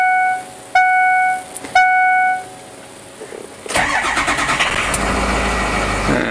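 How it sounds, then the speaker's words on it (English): A car engine cranks and catches after a few chimes from the dashboard, then settles into a steady, fairly loud idle close by. "Turn the vehicle back on."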